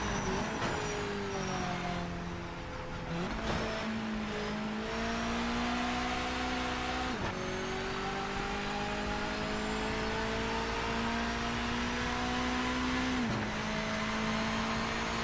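A Mazda MX-5 race car engine in the Project Motor Racing sim game, droning steadily with rising revs and three quick gear-change dips, even and moderately loud throughout with no talking.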